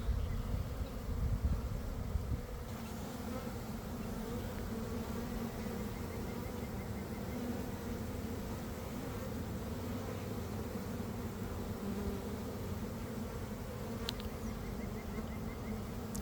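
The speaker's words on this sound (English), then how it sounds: "There are very few bees in the air now" Honeybees from a caught swarm settling into their hive, the steady buzzing of many insects forming a continuous drone that stays even and fairly loud throughout.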